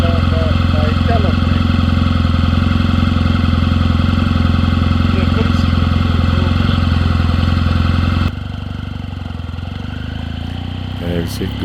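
A BMW R nineT motorcycle engine runs steadily at a close distance, a low, even drone that drops abruptly in level near the end, leaving a quieter idle with faint clatter.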